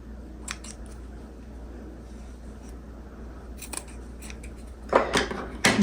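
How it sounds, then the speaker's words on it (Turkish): Scissors trimming the yarn ends of a tassel to equal length for a mesh pillow case: a few faint clicks over a low steady hum, then several sharp, close snips near the end. "Sonra püskülün ucunu aynı boyda kesiyorum."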